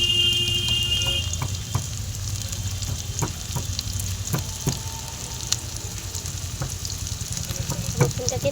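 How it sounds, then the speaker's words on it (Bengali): Onions frying in a pan, a continuous low sizzle with occasional sharp clicks and knocks of kitchen utensils nearby, steady and moderately loud. "ততক্ষণ পেঁয়াজটা ভাজা হোক।"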